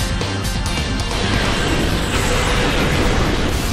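A loud, dense rushing blast of water surges continuously, Blastoise's Hydro Cannon attack in Pokémon Battle Revolution, with no talking.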